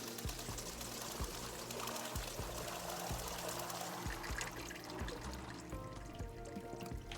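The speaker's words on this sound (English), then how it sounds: "Just put in the water." Water poured into a mug for tea in the video game Wanderstop, a soft continuous pouring trickle with a rhythmic mechanical ticking behind it, quiet and alone.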